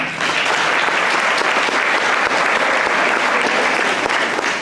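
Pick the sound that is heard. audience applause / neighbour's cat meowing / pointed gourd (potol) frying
audience applause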